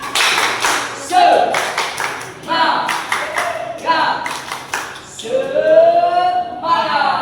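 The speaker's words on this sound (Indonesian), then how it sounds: "Ayo, kita tepuk semangat" Children in a classroom perform a rhythmic spirit clap, bursts of clapping in patterned groups alternating with a teacher's voice and the children's chanting.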